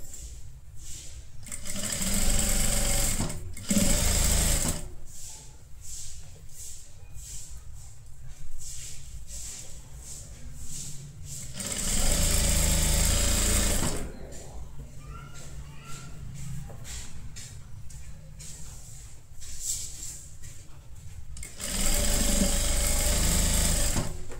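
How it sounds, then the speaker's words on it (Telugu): A sewing machine stitches kids' palazzo pants in repeated loud bursts of rapid mechanical whirring, separated by quieter pauses with handling sounds, heard up close. "నీట్గా రింకల్స్ లేకుండా కుట్టుకోండి."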